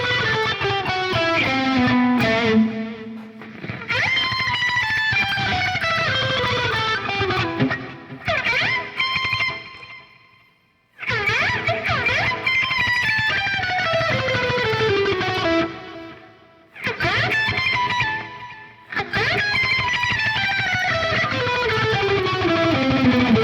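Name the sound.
electric guitar tremolo picking octaves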